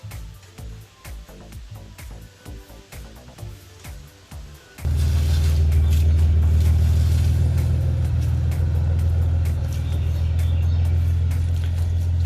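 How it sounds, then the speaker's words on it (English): A Nissan Z car passes close by with a loud, steady engine roar that swells in abruptly and holds strong to the end, following a quieter stretch of workshop noise with rhythmic knocks. "There goes the wife in her Z."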